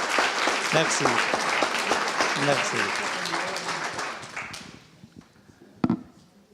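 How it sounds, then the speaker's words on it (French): Audience applause at a literary round-table panel on European literature, a dense steady clapping that gradually fades out toward the end, with someone saying a brief word under it and a sharp knock just after. "on peut l'applaudir pour ça"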